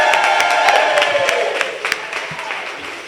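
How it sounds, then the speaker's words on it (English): Audience applause and cheering at a book launch, a dense wash of clapping with whoops that fades gradually over a few seconds, fairly loud and close. "First round of applause for Patricia Beaman."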